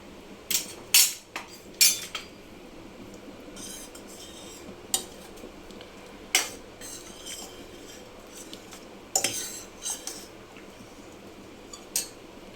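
Cooked greens are mashed in a metal pot, giving irregular sharp clanks and scraping taps of the utensil against the pot, some in quick clusters, over a quiet background.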